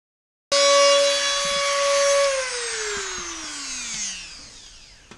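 Power tool cutting through the brake linkage of a Yamaha Virago cafe racer, a loud steady whine that starts abruptly and then slowly drops in pitch as the tool spins down.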